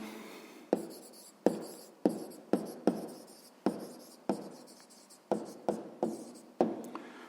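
A pen writes an answer to a sixth-grade maths problem on paper, scratching in a steady run of short strokes, each starting with a sharp tap and fading off, about a dozen of them, close and fairly quiet.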